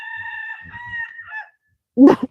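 A rooster's weak, strained crow: a thin, wavering call that fades out, followed after a short pause by a brief raspy squawk.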